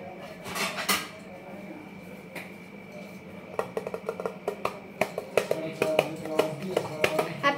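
Plates and dishes clatter in a home kitchen during a Korean-style Maggi noodle cook, with a steady run of sharp clinks and knocks that grows busier toward the end, beneath a low background hum.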